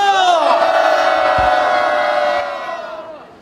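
A crowd at a candlelight protest rally in Gwangju roars and shouts together in a loud, sustained cheer that holds steady, then fades over the final second.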